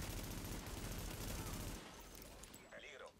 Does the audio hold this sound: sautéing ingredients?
no